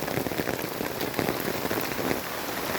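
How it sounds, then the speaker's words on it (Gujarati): Heavy rain pours down steadily over a village and its flooded fields, a dense, close, continuous hiss of drops striking surfaces with no voices. "જોઈએ કહો તમે કેટલો વરસાદ પડી રહ્યો"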